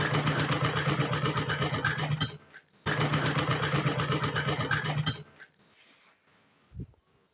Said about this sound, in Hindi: इस पे सिलाई मार देनी है